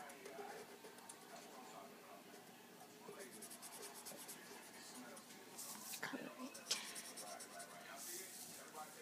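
A pen or pencil drawing a cartoon dog's face on paper, soft close scratching strokes in irregular bursts, faint and intermittent under quiet talking.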